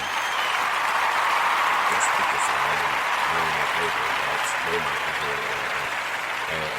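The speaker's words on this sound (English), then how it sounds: "But there's applause." A continuous bed of crowd applause runs through a sports talk show while someone speaks over it, the clapping steady and fairly even beneath his voice.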